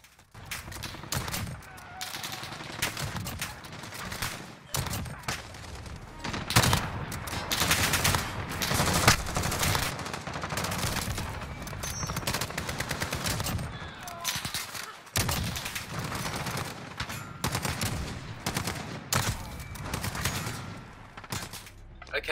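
Gunshots in Call of Duty Modern Warfare ring out from sniper rifles, loud sharp cracks scattered irregularly among other gunfire over a steady game background.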